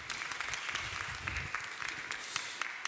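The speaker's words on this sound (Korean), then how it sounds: "우리 박성도 소장님께 다시 한 번 더 큰 박수 부탁드리고요" Applause from a church congregation at a Korean new-members worship service, moderately loud and steady with scattered sharper claps, continuing for about three seconds with no talk over it.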